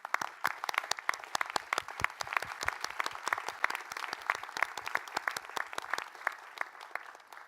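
Audience applause at a college presidential inauguration ceremony, a steady patter of many hands clapping, moderately distant and continuing throughout without voices.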